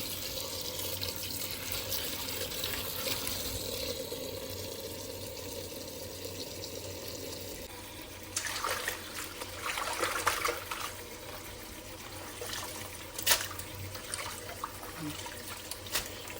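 Vegetables being washed and soaked in a basin of water, with steady running and splashing water that turns livelier with sloshes and trickles in the second half.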